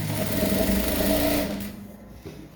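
A sewing machine runs along a trouser seam in a steady rapid whirring buzz for about a second and a half, close and fairly loud, then stops, leaving a brief mechanical clunk and quiet.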